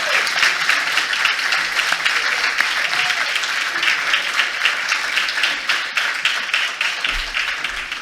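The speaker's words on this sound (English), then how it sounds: "we'll just clap." An audience claps steadily for a People's Choice Award winner at an evening finale event, dense continuous applause filling the whole stretch at even loudness with no talk over it.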